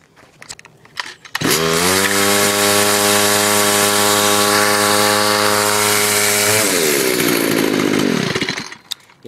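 A Stihl FS 45 string trimmer's small two-stroke engine fires after a few faint pulls and runs at a loud, steady high idle for several seconds, then drops sharply and winds down.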